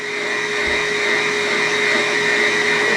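An electric mixer blends cream cheese, sugar and egg for mini white chocolate raspberry cheesecake bites, giving off a steady, close, unbroken whir that holds at an even level throughout.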